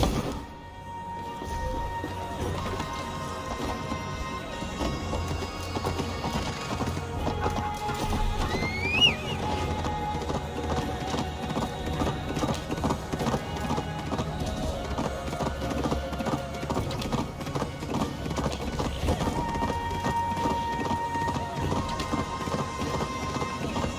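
Hooves clip-clop steadily beneath layered background music in Assassin's Creed Valhalla, a continuous even rhythm at moderate volume.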